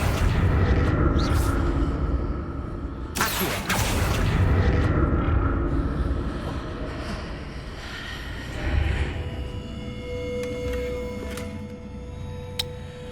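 Magical spell effects cast in the Hogwarts Legacy video game: a dense rumbling wash with sharp bursts and a big booming blast near the middle, loud and continuous, with a brief spoken moment.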